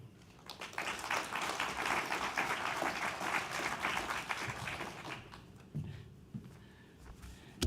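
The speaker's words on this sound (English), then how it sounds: "Please join me in offering a nice welcome to Mr. Paul Karchuk." An audience at a National Indigenous Peoples Day panel discussion breaks into steady, sustained applause to welcome a speaker, the clapping loud and dense for several seconds before thinning into scattered claps.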